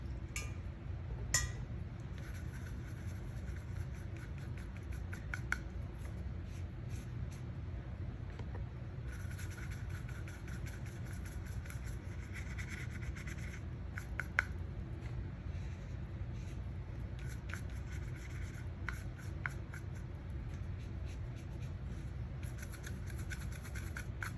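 Leftover paint being scraped and wiped off a palette, with a steady soft rubbing and scratching texture broken by occasional faint clinks, close and quiet throughout.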